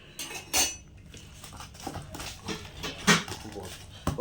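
A spoon scrapes and clinks against a bowl while onion bonda batter is mixed, with irregular close knocks and scrapes and faint talk in the background.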